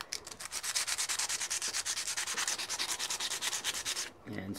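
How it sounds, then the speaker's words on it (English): Sandpaper scratches up the surface of a guitar pickup in quick, rhythmic back-and-forth strokes, about eight per second. The rasping is close and steady for four seconds before it stops. "take your sandpaper"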